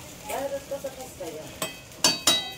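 Food roasting in a pan for a fasting-day snack, with soft sizzling beneath sharp metallic clinks and stirring taps of a utensil against the pan, plus a few brief spoken sounds.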